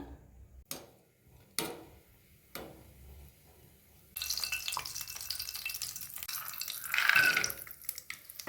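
Dry fruits fry in hot ghee in a pan, first a few sharp clicks and taps, then a steady loud sizzle that swells briefly before settling, with no voices.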